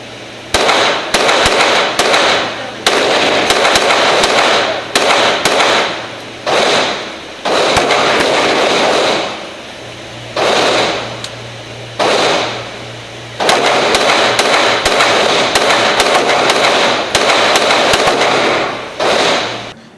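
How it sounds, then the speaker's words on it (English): A GSG 1911 pistol, California version, fired outdoors in repeated loud sharp reports that come in quick strings with short pauses between them, with no talking. "It shot great, as you can see from this video right here."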